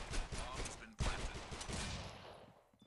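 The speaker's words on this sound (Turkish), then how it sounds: "Ulan ikinci mermiyi yanlışlıkla sıktım." Gunfire in the mobile shooter game Critical Ops: a dense, loud burst of shots at the start, then a second sharp report about a second in, with the din trailing off toward the end.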